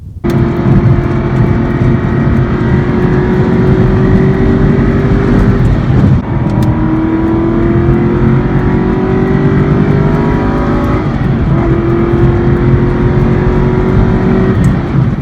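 Exotic car on a rural road dropping a couple of gears, its engine revving up in long rising pulls, loud and close, with brief breaks at each shift before climbing again.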